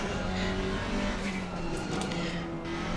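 A GT4 race car in Assetto Corsa Competizione at Laguna Seca drones with a steady engine note and turbo whine, continuous and fairly loud, with a brief tire noise partway through.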